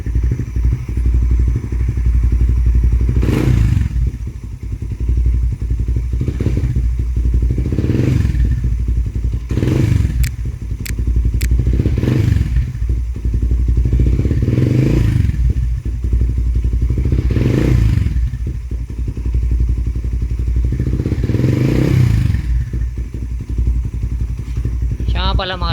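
A Raider 150 FI motorcycle with a replica Pro GP type exhaust idles loudly and close, rising into a series of short revs at regular intervals.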